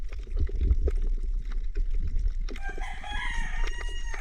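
A rooster crows loudly nearby over a low background rumble, with chickens clucking around it.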